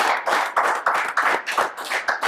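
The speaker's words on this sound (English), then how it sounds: "Give yourselves a round of applause." A small podcast crew gives a short round of applause, a few pairs of hands clapping unevenly in quick bursts, close and fairly loud, with no talking.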